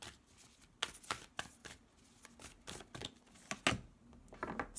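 Goddess oracle cards being shuffled by hand in a quiet room, a run of crisp riffling bursts and soft flicks at an irregular rhythm, close and moderately quiet.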